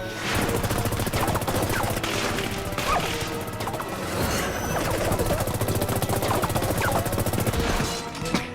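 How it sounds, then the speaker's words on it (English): Rapid video-game gunfire rattles on in dense, loud bursts with crashes and impacts mixed in, running almost continuously for several seconds. "You just shoot the gun, Mox."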